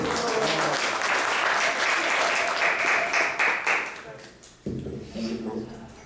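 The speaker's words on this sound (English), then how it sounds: "let's give a round of applause for him" At a temple gathering, an audience gives a round of applause for the new temple commander, loud dense clapping that thins into scattered claps and fades before voices and chanting take over.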